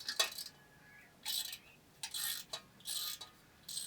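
A ratchet clicks in short bursts as it turns a 7mm socket on a bike, quiet and close, with several separate spells of rapid metallic ratcheting split by brief pauses.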